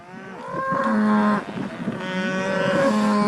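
Agitated cattle on a California ranch moo loudly and close by, two long drawn-out bellows with a brief break between them.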